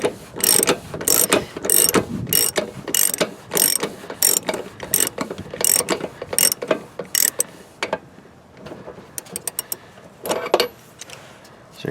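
A socket wrench ratchets out the drain plug of a camper water heater in rapid, evenly spaced clicking bursts that slow and thin out toward the end, close and fairly loud.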